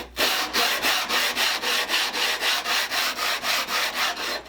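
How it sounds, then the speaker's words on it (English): Rhythmic sanding of a Sargent rebate plane's sole on 80 grit sandpaper, about a dozen steady back-and-forth abrasive strokes, close and loud with no talking. "I'm starting with 80 grit."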